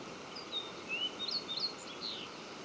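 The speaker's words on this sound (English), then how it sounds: "And the little yellow warblers." Yellow warblers sing in the Idaho Boulder Mountains: several high, thin chirps and short whistled notes over a steady outdoor hiss, scattered and fairly faint.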